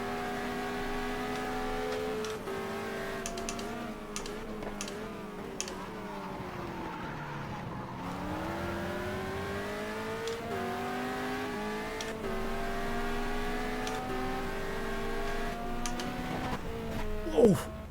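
A GT race car engine in the GTR2 racing game, set at Bahrain, whines continuously through gear changes with rising and falling revs, loud and steady, alongside other cars.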